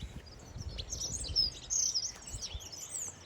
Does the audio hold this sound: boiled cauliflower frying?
no